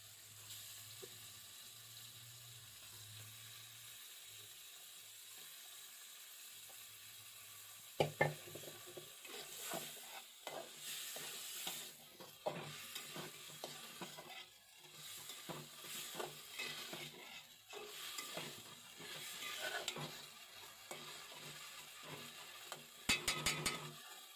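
Beef sizzles faintly in a pan of spiced masala, with scattered scraping and clinking as it is stirred, and sharper clatter in bursts throughout.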